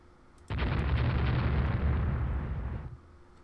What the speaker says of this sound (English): You're hit by a torpedo.